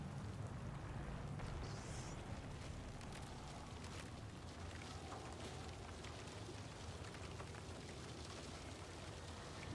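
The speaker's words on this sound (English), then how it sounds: "It's hailing! Bro, I didn't know there was hail in this game." Hail pours down in a video game as a dense, steady hiss and patter of pellets, faint and constant throughout with no voices.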